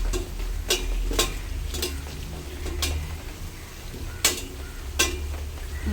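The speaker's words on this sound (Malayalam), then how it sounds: "അപ്പോഴേക്കും ഈ എണ്ണയിലിട്ടിട്ട് ഒന്ന് മൂപ്പിച്ചിട്ടുണ്ട്" Chicken marinated in Arabic masala goes into hot oil for a chicken madhooth recipe, giving a low steady frying sizzle with scattered sharp clinks and stirring taps from a pan and utensils, with no talking.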